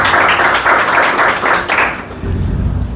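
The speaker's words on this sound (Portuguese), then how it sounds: "Uma salva de palmas também para ela." A class audience claps for a teacher in a brisk burst of close, loud applause that fades out after about two seconds, leaving low background rumble.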